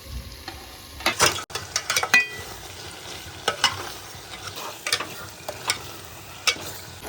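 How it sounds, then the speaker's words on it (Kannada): A kilogram of chicken simmers in biryani masala in a pot, with quiet bubbling and intermittent spoon clinks and scrapes against the pot. "ಇವಾಗ ಚಿಕನ್ ಕುದಿತಾ ಇದೆ"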